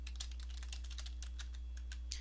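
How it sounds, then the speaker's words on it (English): Rapid typing on a computer keyboard while entering table data in Microsoft Access 2007, a steady stream of crisp close key clicks over a low constant hum. "Press enter on your keyboard when you're finished with that category"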